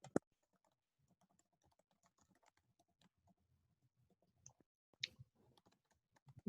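Quiet typing on a computer keyboard during an online webinar, a soft, irregular patter of key clicks with a few sharper taps, close and alone without speech.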